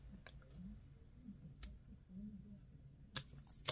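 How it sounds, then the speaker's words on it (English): Sheet of paper creased and folded by hand, with soft close rustling and a few sharp crinkles and clicks as the fold is pressed down. "So I'm just going to kind of fold it there."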